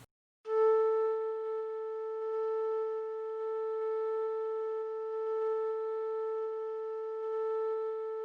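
A virtual clarinet driven by a MIDI breath controller with an averaging module smoothing the input holds one steady, sustained reedy note, with slight swells in loudness and no talking.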